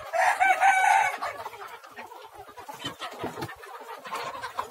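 Native Nagamangala country chickens about four and a half months old, on a farm in Mandya district, cluck close by while a rooster crows loudly at the start, followed by scattered softer clucks.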